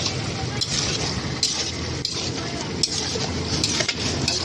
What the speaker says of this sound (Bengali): এবার একটু ভালো করে নাড়বো